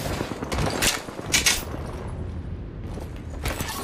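Gunfire in Apex Legends comes as several sharp, loud shots in quick irregular bursts over a busy game background, with no talk over them.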